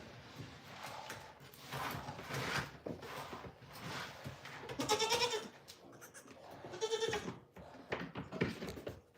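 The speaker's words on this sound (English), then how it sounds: "Baby goat." Baby goat on a farm bleating several times in short wavering cries, close and fairly clear over a rustling barn background.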